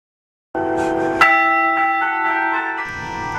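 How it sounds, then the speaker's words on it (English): Church bells rung by hand in the bell tower of Collins Chapel CME Church, sounding loud and close as sustained ringing tones that swell with a fresh strike partway through and keep resonating to the end. "Paul Hicks was kind enough to take us up into the bell tower and play the bells for us."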